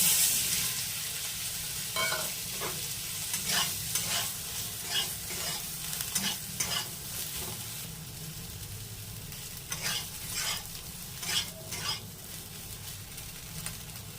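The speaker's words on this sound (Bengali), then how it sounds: "এবার আমি ভেজে নেব সোয়াবিন" Soaked, drained soybeans fry in hot oil with a continuous crackling sizzle, while a spatula scrapes and stirs in repeated strokes through the pan, close up and steady with no voices.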